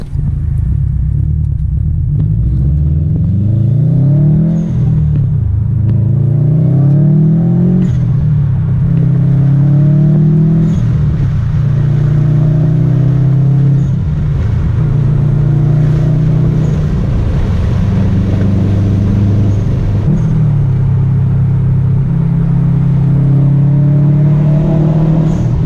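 A protuned Subaru STI engine drones loud and close, with repeated rising pulls as it revs through the gears, sustained throughout with no talking.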